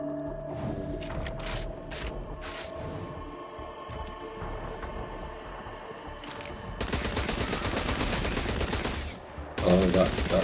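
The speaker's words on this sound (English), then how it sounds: "Oh, that little explosion." Gunfire and a small explosion in the mobile game Destiny: Rising, a burst of rapid automatic shots over a dense rumbling mix, followed by a louder final blast.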